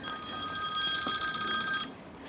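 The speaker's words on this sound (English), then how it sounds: "Oh, there's the phone." A telephone rings indoors on a rooftop-alarm service call in late-1980s North Dallas, its steady trilling bell sounding fairly loud for most of the moment before stopping abruptly near the end, with no talking.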